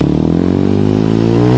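A motorcycle engine revving up close and loud, its pitch climbing steadily over a brief burst with rattly mechanical texture.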